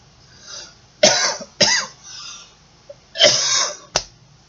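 A man coughs several times, sharp, close bursts spaced irregularly with a throat-clearing rasp between them, loud against a quiet room.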